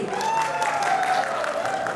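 A crowd of wedding guests claps briefly at a reception cake-sharing game. The applause is continuous and moderately loud, with a faint tone running underneath.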